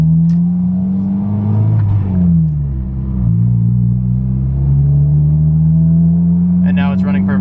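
A car engine hums steadily and loud up close, its pitch rising and dipping as it revs, with a brief higher whine near the end.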